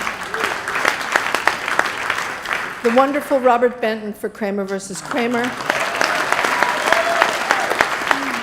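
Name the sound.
audience applause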